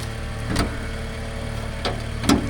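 A BMW N55 twin-scroll turbo inline-six in a 2011 X3 M Sport idles with a low, steady hum, close by, broken by a few brief knocks or clicks.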